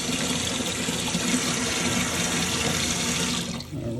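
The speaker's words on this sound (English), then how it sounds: "Add a little bit more water." Water pours steadily from a tap into a container while making bitters at Fhima's, a loud continuous rushing stream that cuts off near the end, leaving a brief gurgle.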